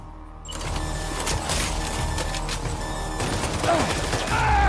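Assault rifle gunfire in the video game Death Stranding 2: On the Beach, with a dense, sustained run of loud shots and impacts that barely lets up for the whole stretch.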